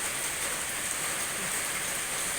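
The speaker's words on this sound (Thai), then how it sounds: "ในเมื่อฝนฟ้าที่ว่ามันลงแล้ว" Steady, dense hiss of heavy rain pouring down outdoors among flowering coffee plants, an even wash of sound with no pauses and no voices.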